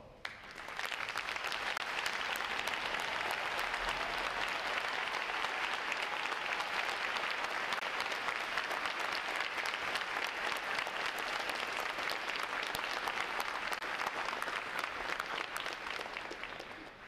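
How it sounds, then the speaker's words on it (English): Sustained audience applause fills a Navy recruit graduation ceremony for standing veterans, a dense, even roar of many hands clapping that holds steady for the full stretch before tapering at the end, with no voices over it. "Would all of our veterans please stand and let's give them a round of applause."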